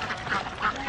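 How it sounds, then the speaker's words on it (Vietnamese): A flock of ducks behind a riverbank fishing spot, several birds quacking in overlapping bursts at mid distance, steady throughout the second with faint voices mixed in. "phía sau mình là một đàn vịt nha"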